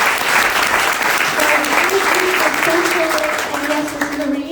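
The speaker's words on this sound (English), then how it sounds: "a last round of applause for the team that put it together" Loud, sustained applause from a community audience for an event's organizing team fills the room, with a voice speaking over the clapping toward the end.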